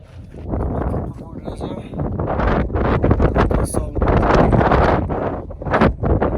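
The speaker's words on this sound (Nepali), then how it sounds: "हावा एक्सट्रिम लेभलमा चलिरहेछ" Strong wind buffets the microphone beside Tilicho Lake in Manang, a loud, steady roar that surges and gusts throughout with no pause.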